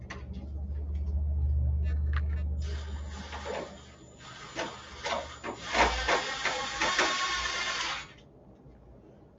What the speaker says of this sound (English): So I'm going to throw a couple screws into this real quick.